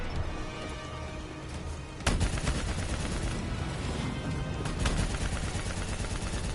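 Heavy, continuous gunfire in a video game battle, with sustained automatic shooting and a sharp louder blast partway through, dense and close throughout.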